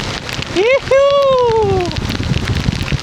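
Rain pours down steadily on an outdoor scene as a person showers in it, a broadband hiss running throughout beneath a loud whooping shout.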